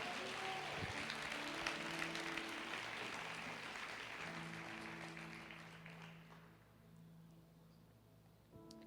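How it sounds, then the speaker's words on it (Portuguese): A congregation claps at a church conference, a broad wash of applause under sustained musical tones that fades toward the end. "Será que você pode dar uma salva de palmas para Jesus?"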